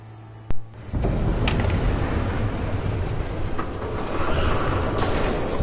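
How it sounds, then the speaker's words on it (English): A train roars past in the video game Batman: The Telltale Series, with a sharp bang at the start and then a loud, continuous rumble and clatter of rail cars heard alone. "There's a train coming."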